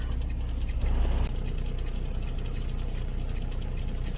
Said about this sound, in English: that latch slide over and catch the pin and lock the trailer in